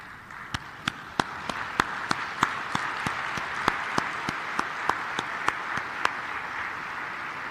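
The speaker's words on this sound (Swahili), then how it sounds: "naomba tusimame na tuwapigie makofi" An audience at an African coffee producers' conference applauds to honour coffee farmers, a sustained wash of clapping crossed by crisp, evenly spaced rhythmic claps.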